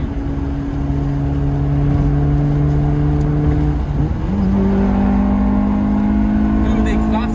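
A Honda DOHC VTEC engine hums steadily from inside the car, its exhaust tone holding level and then stepping up in pitch as the revs climb, with a voice talking over it.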